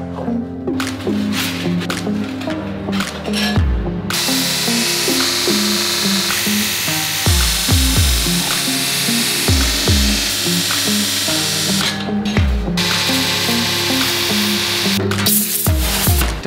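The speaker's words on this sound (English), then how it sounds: "I'll be able to use those small wheels and a fresh 60 grit to take that wood down" Power sanding a wooden Viking battle axe handle with small 60 grit wheels: a loud, steady whirring grind runs almost continuously, with short pauses and sharp low thumps where the tool shifts on the wood.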